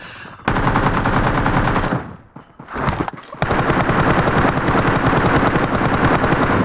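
Automatic gunfire in the mobile game PUBG Mobile, with two rapid loud bursts separated by a brief pause and scattered quieter shots.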